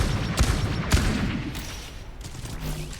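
Rapid weapon fire from a Gundam-themed skin in Overwatch 2, carrying a crackling electric effect: a dense, loud stream of shots with a few sharper bursts near the start, easing slightly toward the end.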